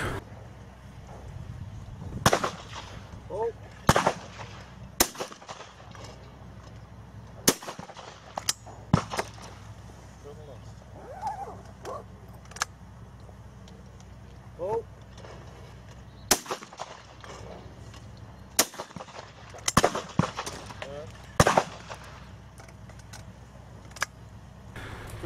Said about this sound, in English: Great shooting from Mark